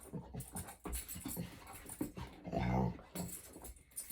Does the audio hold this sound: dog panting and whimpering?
yes